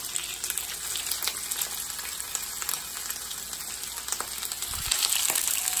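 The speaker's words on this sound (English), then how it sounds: "You hear that sizzle, that nice sizzle." Steady crackling sizzle of food frying in hot oil, continuous and fairly close, with a brief low thump near the end.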